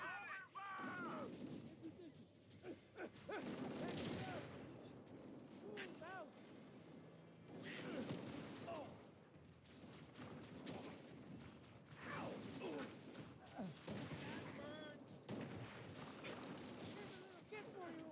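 Gunfire in the Halo Campaign Evolved video game, rapid mechanical bursts and clattering shots crackling through a busy firefight, with voices shouting and talking over the action throughout.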